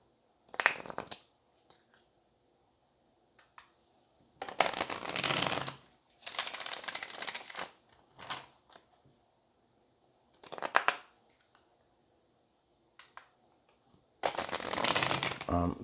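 Tarot cards being riffled and shuffled at a table, in several distinct bursts of papery flutter separated by quiet pauses, close and clear, with no talking over them.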